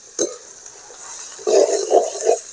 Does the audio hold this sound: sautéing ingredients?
yes